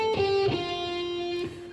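A short guitar phrase moving through a strictly diatonic scale without string bends: a few clean, sustained picked notes, close and clear with no voices.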